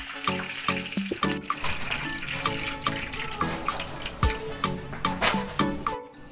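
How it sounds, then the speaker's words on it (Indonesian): About two liters of water poured into a cooking pot over cooked garlic, ginger and scallion for a large batch of Padang-style capcay, giving a steady gushing, splashing pour with clinks and knocks from the pot. "Kemudian kita masukkan air 2 liter."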